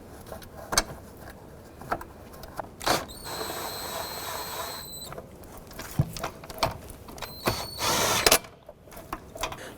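Tightening bolts on a 2006-2012 Honda Civic during knock sensor replacement: scattered sharp metallic clicks and taps from a hand tool, with two brief bursts of high ratchet whirring, close and fairly quiet, with no talk.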